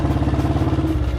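A restored 1983 Royal Enfield Bullet pulls in third gear, its single-cylinder engine giving a close, steady, rapid thumping beat for about a second, with no talk.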